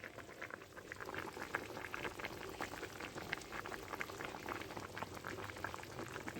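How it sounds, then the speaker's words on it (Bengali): A pot of vegetable curry with potatoes, stem greens and raw banana bubbles at a steady, dense boil, with close, continuous popping and gurgling and no voices. "যে তরকারি আমার ফুটে উঠেছে"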